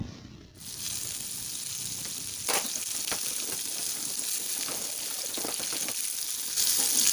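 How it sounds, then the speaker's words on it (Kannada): Fish fillets fry in oil in a pan for a Mangalore-style pepper fish dry, a steady close sizzle with a few sharp crackles and faint clinks, no talk. "ಇತ್ತೆ ಪೂರ ಮೀನ್ಲ ಫ್ರೈ ಆಗ್ತಂಡು ಎರಡು ಸೈಡ್"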